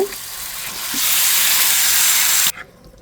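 Taro leaves tossed into a pan of fried onion and garlic, setting off a loud, close sizzling hiss that swells and holds for over a second before cutting off sharply.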